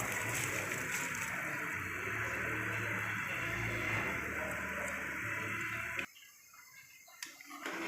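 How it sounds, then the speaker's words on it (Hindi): Soaked rice added to a pot of water for chana pulao, a steady loud rushing, bubbling wash of water that cuts off abruptly, leaving a few faint clinks. "पानी हो गया हमारा तैयार। अब मैं इसके अंदर डालने लगी हूँ चावल।"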